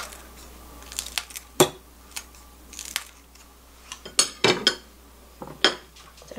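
A knife slices green onion on a cutting board in a home kitchen while soy-marinated eggs are prepared, giving a close run of sharp, irregular taps and clinks with quiet gaps between them.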